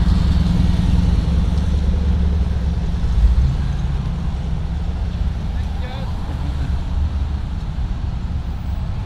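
Police motorcycles in the Police Unity Tour ride through Gloucester, Virginia, making a steady, low engine rumble from the passing bikes while a voice talks over it.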